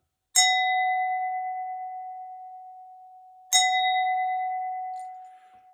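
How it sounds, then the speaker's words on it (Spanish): A crystal wine glass is struck twice: each tap gives a bright, clear ping that rings on for several seconds and fades slowly, the second strike coming about three seconds after the first, in an otherwise silent room. "Este es el sonido de una copa de cristal."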